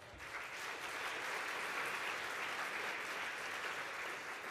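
An audience at a hospital radio awards ceremony applauds John Myers, a sustained even wash of clapping from a crowd that holds steady throughout and is fairly quiet overall.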